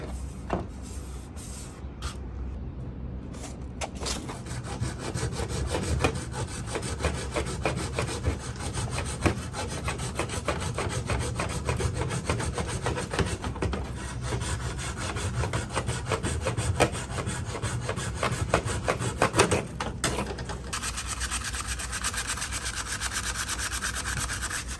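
Coarse sandpaper rubs steadily over a Toyota FJ Cruiser grille being prepped for primer, a continuous close scratchy rasping with rhythmic strokes that runs for the whole stretch without speech.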